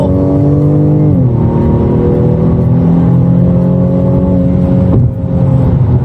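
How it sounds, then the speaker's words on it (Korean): A BMW M235i's 2.0-litre engine revs hard under acceleration in sport mode, its droning note rising steadily, dropping briefly at two gear shifts, loud and close from inside the vehicle. "와, 엔진 소리 들어보세요."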